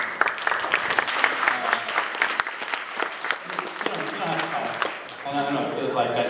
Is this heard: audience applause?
yes